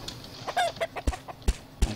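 Chickens clucking in the video game Reign of Kings, a few short close clucks and squawks followed by a handful of soft thuds, with no talking.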